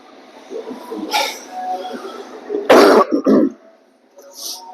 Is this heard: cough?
yes